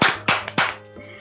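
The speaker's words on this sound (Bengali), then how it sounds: "ঋষার জন্য একটা জোরে হাততালি" Several loud hand claps sound close by for Risha. Three strong claps come first, then a few softer ones as the applause fades out.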